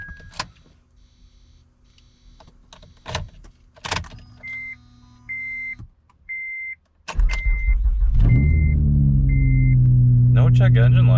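An Acura TL shuts off amid quiet cabin sounds and a series of evenly spaced chimes, then the engine restarts with a loud rumble and settles into a steady idle, with some speech in the car.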